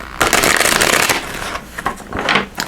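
Tarot cards are shuffled by hand in quick riffling bursts, close and crisp, with short pauses between the rustling flurries.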